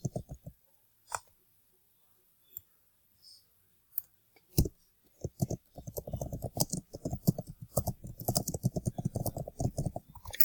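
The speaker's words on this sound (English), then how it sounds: "You will type whatever you need to type" Typing on a computer keyboard, a few isolated key clicks at first, then a dense rapid run of close, quiet keystrokes continuing to the end.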